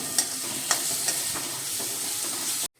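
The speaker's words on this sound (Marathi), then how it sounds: "चांगलं आपण हे तेलामध्ये भाजून घेऊया।" Masala with red chili powder roasts in hot oil with a steady, close sizzle and a few light stirring clicks, then cuts off abruptly at the end.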